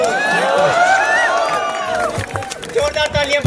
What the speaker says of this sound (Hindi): जोरदार तालियां भैया के लिए एक बार प्लीज